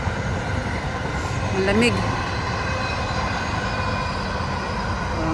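Long train rumbling past a frosty rural farm field, a continuous steady roar that holds for several seconds, with a person speaking briefly over it and a short horn-like tone partway through.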